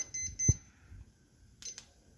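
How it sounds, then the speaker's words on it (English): Kitchen timer being set while baking sourdough bread, a few faint, close high-pitched beeps with light handling taps, no talking. "So then I set the timer for"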